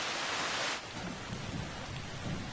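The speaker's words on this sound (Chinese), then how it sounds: "They knew it would rain." Steady rain pours down with a low rumble of thunder rolling underneath, loud and continuous, with a brighter burst of rain noise early on.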